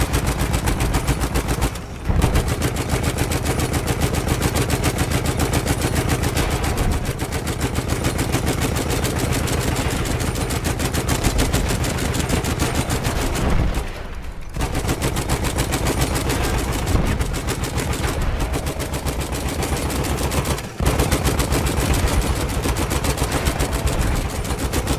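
Rapid, sustained gunfire in Battlefield 1 online play, with tank and machine-gun fire rattling almost continuously at close range and only a few brief gaps.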